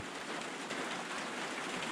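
Steady rain falls during a fishing trip, a dense, even hiss of drops spattering on surfaces that stays loud and unbroken from start to end, with no voices.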